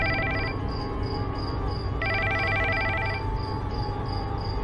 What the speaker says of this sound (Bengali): হঠাৎ তার ফোন বেজে ওঠে।